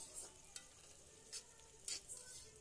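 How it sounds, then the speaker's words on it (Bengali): Beans and green chillies fry quietly in a pan, a faint steady sizzle broken by a few soft scrapes of stirring, close by and with no talking. "ভালো মতো ভেজে নেব।"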